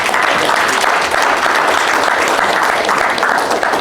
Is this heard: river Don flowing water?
no